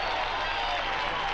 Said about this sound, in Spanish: Y un gran aplauso también quiero pedir para Guille Arrom en guitarra y Claudio Cardón en teclado.